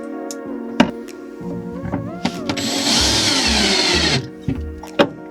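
A power drill drives screws into the corners of a lazy Susan turntable, giving a loud whirring burst of about a second, surrounded by clicks, taps and handling knocks on wood up close.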